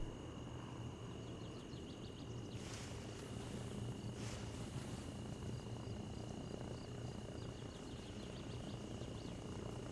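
A helicopter in the video game Arma Reforger drones steadily with a low rotor rumble throughout, with a couple of faint whooshing swells partway through.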